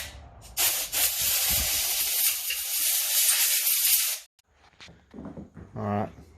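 Compressed-air blower blasting the underside of a drop-in fuel pump for a 2008 Dodge Charger in a garage, a loud steady hiss for about four seconds that cuts off sharply, followed by faint handling clatter and a brief voice.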